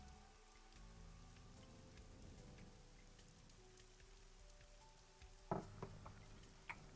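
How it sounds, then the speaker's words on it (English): Pouring rain in the video game Ai: The Somnium Files, a soft continuous patter of drops with faint ticks and a low hum, joined near the end by a couple of louder taps. "She's standing in the pouring rain with an umbrella up"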